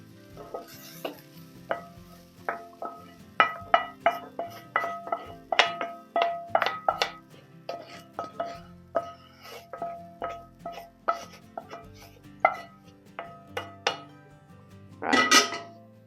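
Vegetables scooped from a pan into a bowl, a quick irregular run of close utensil scrapes and clinks against cookware, ending in a brief louder rattle.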